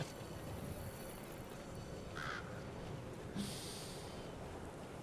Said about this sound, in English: So this is Raven territory.